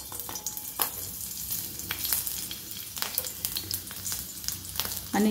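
Green chilies sizzle and crackle in hot oil in a kadhai, a close, steady fry broken by sharp pops and the occasional stir.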